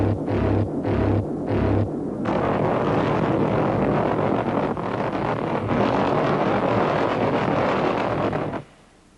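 A-10 Thunderbolt attack aircraft fitted with a 30mm GAU-8 cannon, a loud continuous roaring rumble that stays steady for several seconds after a few short pulsing bursts at the start, then cuts off sharply near the end.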